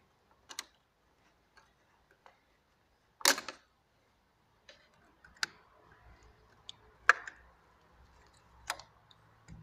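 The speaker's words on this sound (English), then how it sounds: "with this kind of pliers I'm going to pull out the safety pin, so I can remove the return line" Sparse metallic clicks and taps as pliers work the safety pin out of the fuel return line on a VW Caddy 1.6 TDI, close and quiet, with a faint low hum in the background.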